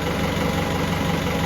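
A TDI diesel engine swapped into a Jeep Wrangler idles at about 700 RPM with a steady, close, even rumble and a faint knocking rhythm running unbroken throughout.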